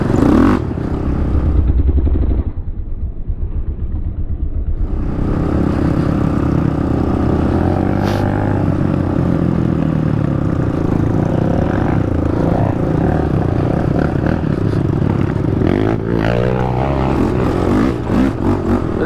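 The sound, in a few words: 2014 Honda 450 sport quad engine revving off-road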